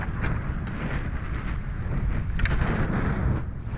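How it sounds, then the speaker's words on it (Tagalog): Wind blows steadily outdoors at sea from a small fishing boat, a close, rushing buffet with mic noise, continuous and fairly loud, with no talk. "Yan, humahangin na."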